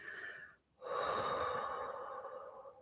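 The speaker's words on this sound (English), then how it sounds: "So when you do this release breath," A single audible release breath is exhaled through the mouth, a soft close rush of air after a brief catch, trailing off gently.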